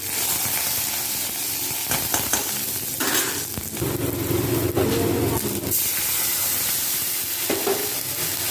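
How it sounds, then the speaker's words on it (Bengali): Water poured into a hot pan of frying garlic and chilli bursts into loud hissing sizzle, with stirring scrapes and sputtering bubbling that rises and falls over several seconds. "তারপর কিন্তু আমি একটু জল দিয়ে দেবো"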